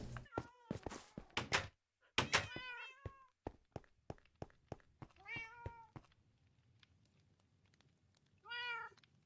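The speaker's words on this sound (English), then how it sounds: "Cat." A Minecraft cat meows in a video game, several short rising mews mixed with dull thuds and clicks, then a final clear meow after a quiet gap.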